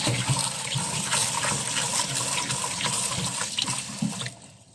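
Mung beans being rinsed in a basin of water, a steady rushing and sloshing of liquid at close range that cuts off near the end, with no talk.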